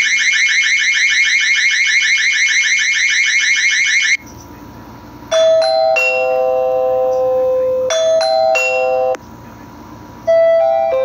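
A Ring Alarm chime for a back door sounds as a series of bright, clear electronic tones in short bursts, loud and close, following a stretch of rapid pulsing alarm beeps.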